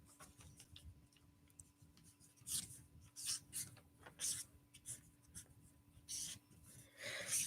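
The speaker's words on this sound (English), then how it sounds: "this is a dry erase marker, so it might not actually look good" A dry erase marker squeaks and rubs across a board in short strokes, close and fairly quiet against a faint steady hum.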